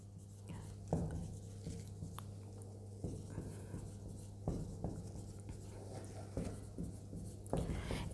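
Chalk or marker strokes on a board during a cost accounting lesson, a steady scratching with short taps and pauses, close and moderately loud over a constant low hum.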